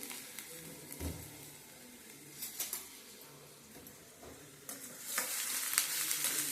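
Onion fries in a pan for potato curry, a continuous hissing sizzle close by with occasional soft stirring scrapes, growing slightly louder toward the end.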